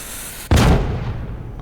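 A frag grenade goes off in the video game Rogue Point: one sudden, loud, close blast after a brief quiet lead-in, followed by a rumbling decay that fades slowly.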